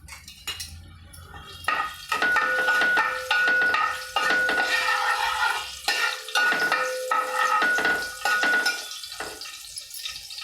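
Green chillies and turmeric fry in hot oil for a fish curry, loud crackling sizzle with repeated metal spoon scrapes and clinks against the pan, plus a thin high-pitched tone running through much of it.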